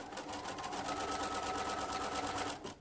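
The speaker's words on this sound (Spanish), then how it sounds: "Voy a coserlos todos en cadena" A sewing machine chain-stitches Dresden Plate quilt pieces one after another at a quarter-inch seam with a very small stitch, giving a steady, close, rapid needle-driven whir that runs without a break and stops near the end.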